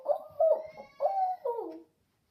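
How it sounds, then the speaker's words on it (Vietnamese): An owl calls in an animal-learning lesson: four soft, hollow hoots in a quick series, clean and close, then silence, with no talk over them. "Con owl là con cú."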